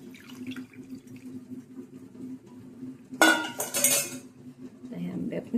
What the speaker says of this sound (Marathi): हे आपण पाणी ओतून आंबे बंद करून ठेवणार आहोत